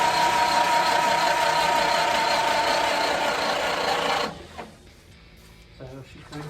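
A Ford Model A engine turns over on a newly installed starter, giving a loud, steady grinding crank for about four seconds before it cuts off, leaving quiet shuffling and small knocks.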